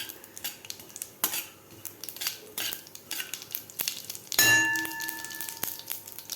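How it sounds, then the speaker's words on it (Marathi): Cumin and mustard seeds crackle and spit in hot oil in a pan, with sharp metallic clinks of a spoon against the pan throughout and a brief ringing tone near the end. "त्यानंतर घालायचे आपल्याला पाव चमचा जिरे जिरे आणि मोहरी आपल्याला व्यवस्थित फुलू द्यायचे आहेत"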